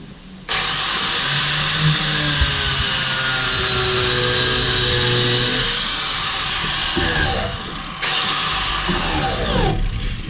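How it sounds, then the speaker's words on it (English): A 4.5 inch angle grinder fitted with a chainsaw wheel cuts grooves into a dirt bike tire, giving a loud, steady high-pitched whine that shifts as the throttle changes and dips briefly near the end, with voices talking over it. "throttle control on the grinder is important."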